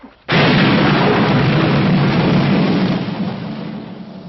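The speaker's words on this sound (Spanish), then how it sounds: "oyeron un sonido como de trueno" A loud, sudden crack of thunder that rolls on as a heavy rumble, slowly fading over several seconds.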